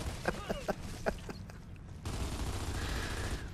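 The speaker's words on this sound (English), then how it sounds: "If you ever wanted to know what an LMG and gears would sound like, this is it." Rapid bursts of light machine gun fire from the video game Gears of War, a handful of sharp loud shots in the first two seconds followed by a dense, sustained rumble of continuous gunfire.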